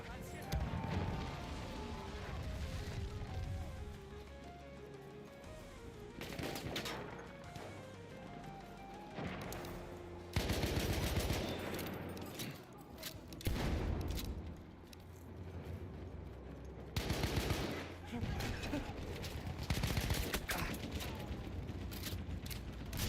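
Gunfire in Battlefield 1, heard as rapid bursts and dull thuds under continuous game noise with someone talking over it.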